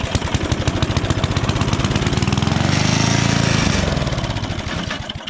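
Small gasoline engine with a primer bulb and choke runs at a camp tool shed, its fast, even firing pulses loud and close, swelling slightly midway before easing off.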